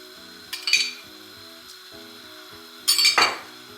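Chicken and jalapenos cook down in a pan with a low, steady sizzle, while two short bursts of metal utensils clinking and scraping come close, over soft tonal background music.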